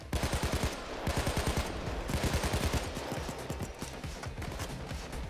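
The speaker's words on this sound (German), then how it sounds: "Und wo wird denn geschossen hier?" Rapid automatic gunfire in the PayDay 2 video game, dense bursts of sharp repeated shots fired in quick rhythm, loud and continuous across the whole stretch.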